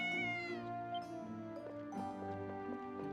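A cat named Mr. Tittles meows in the game Ys: Memories of Celceta, a drawn-out, pitched, wavering call that rises and falls over a soft, tonal musical background, with no talking.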